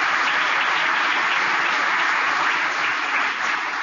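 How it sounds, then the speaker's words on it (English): A large crowd at a speech in Santiago, Chile breaks into sustained applause, a dense, even wash of clapping that holds steady throughout, heard at a distance with no talking. "So why don't you give yourselves a round of applause on a job well done."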